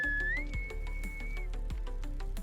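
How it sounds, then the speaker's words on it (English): A single person whistles a short childhood tune, one clear sustained note with a slight upward glide, over a soft musical score. "They whistled their childhood tune one last time."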